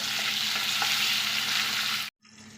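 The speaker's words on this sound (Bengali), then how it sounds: "লবণ দিয়ে ভালো করে একটু নেড়ে দেবো" Live singhi fish curry with papaya and potato sizzling in a pot as salt is stirred in, a steady loud frying hiss that cuts off abruptly near the end, leaving quieter background.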